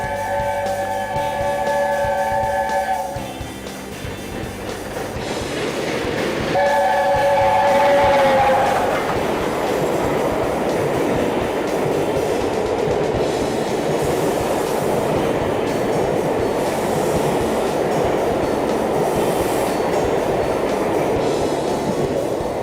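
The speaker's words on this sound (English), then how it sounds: "That's exactly how steam trains should be." A steam train rolls through a station, starting with a horn-like tonal blast, then building into a loud, sustained rumble and clatter of wheels on rails as the carriages pass close by, with no speech.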